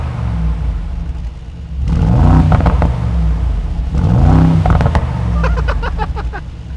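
Brabus G800 G-Class engine revving hard in Sport Plus mode against its soft limiter, two loud surging blips with a stuttering limiter bounce, followed by a rapid crackling burst of pops, close and loud.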